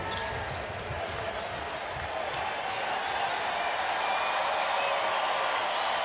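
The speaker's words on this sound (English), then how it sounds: "Partisan crowd here at T-Mobile Center." A partisan basketball arena crowd at the T-Mobile Center during a Big XII tournament game between West Virginia and Kansas keeps up a dense, steady roar, with a ball bouncing faintly beneath the steady noise.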